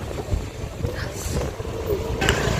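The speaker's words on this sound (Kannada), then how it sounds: "ಹೆವಿ ಗಾಳಿ ಇದೆ ಇವತ್ತು, ಫುಲ್ ಚಳಿ ಆಗ್ತಾ ಇದೆ." Strong wind blows at a college hospital entrance, buffeting the microphone with a continuous low rumble and gusty roar, with faint activity in the background.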